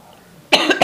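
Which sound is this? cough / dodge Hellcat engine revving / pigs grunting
cough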